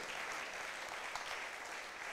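Church congregation applauding and cheering during a sermon, a steady, dense wash of clapping from a crowd with no pauses.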